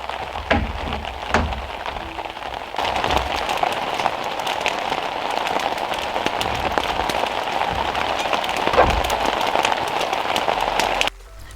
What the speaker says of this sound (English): So it did still keep raining